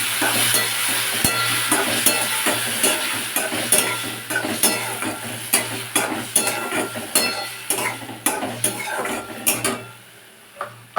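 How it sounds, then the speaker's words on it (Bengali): Spice paste and cumin powder with a little water being stir-fried for dal, rapid rhythmic scraping and clinking of a spoon in the pot over a constant sizzle, close, easing off near the end. "মশলা দিয়ে দিয়ে ওটাকে কষাতে থাকবো"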